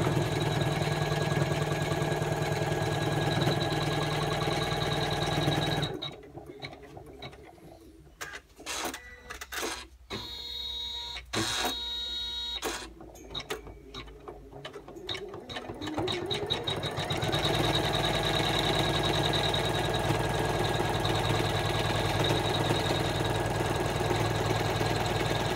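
An embroidery sewing machine stitches the outline of a dragonfly's wings on an in-the-hoop patchwork piece, running as a steady mechanical whir, then breaking into rapid rhythmic clattering stitch pulses for about ten seconds before settling back to a steady hum.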